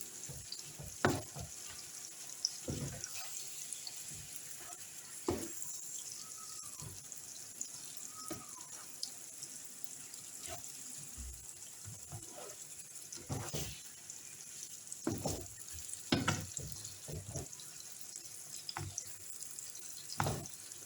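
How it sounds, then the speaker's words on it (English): Fried rice ingredients sizzle in a pan with a faint, continuous crackle, broken by scattered scraping and clinking knocks from stirring throughout. "We're going to allow this to fry for a while before going into it with any other ingredients."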